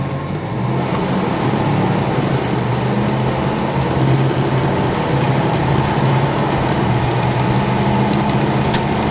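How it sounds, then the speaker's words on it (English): A 1994 Chevrolet C1500 extended cab pickup with a 5.7-litre V8 and automatic transmission accelerates hard, its engine drone loud and steady from start to finish with a constant rush of road noise. "We'll do one heavy acceleration here for the return trip."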